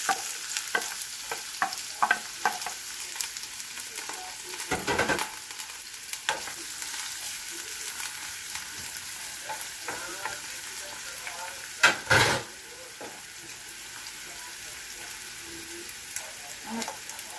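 Garlic and onion sauté in a pan for spicy chicken with pineapple juice, giving a steady close sizzle broken by stirring clatters and a couple of sharper scrapes.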